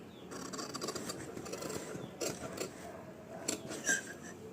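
Scissors cutting stiff canvas into a scalloped edge for tailoring patchwork, giving close, quiet snips and scraping rubs with a few sharper clicks, no talk.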